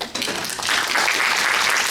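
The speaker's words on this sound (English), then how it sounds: "Jenny and Benny, round of applause." A live audience bursts into a round of applause, dense steady clapping that swells after a short dip and holds strong to the end.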